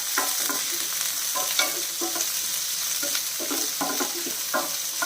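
Onions and green chillies sauté in a pan under a steady sizzle, with a spoon scraping and stirring in repeated rhythmic strokes, close and continuous.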